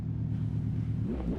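Steady low engine rumble from a tuned car driving in the CarX Drift Racing 2 video game, a continuous droning hum with no voices over it.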